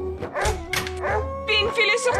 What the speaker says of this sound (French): Emmène ces chiens hors d'ici.